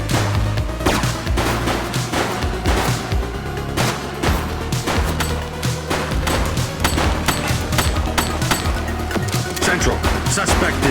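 Gunfire in the police game The Precinct: rapid sharp shots crack in quick irregular bursts, close and loud, over a low musical drone for the whole stretch.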